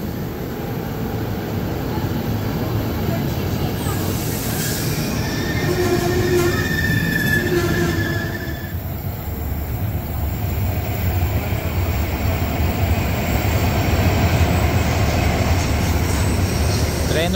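A train rolls past on the rails near Constanta, a loud continuous rumble of wagons with brief squealing tones from the wheels, heard steadily throughout with no talk.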